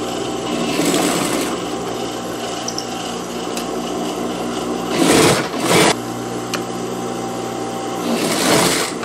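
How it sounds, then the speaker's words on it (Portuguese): A sewing machine stitching the waist seam of a child's dress, a close rapid mechanical whir running steadily with a couple of brief pauses and surges of louder stitching bursts. "E agora eu vou passar a costura prendendo aqui essas duas partes."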